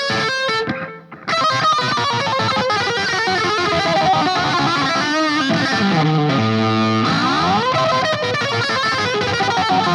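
Loud distorted electric guitar plays a wild, unhinged solo phrase with a dense, saturated tone and effects processing, bending and sliding notes over a full backing without pause after a brief dip near the start.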